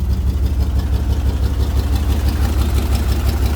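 A 1994 Chevy Blazer K5 engine with a blown head gasket or intake manifold fault runs loud and close, with a steady, rough, throbbing low idle and no break in the rumble.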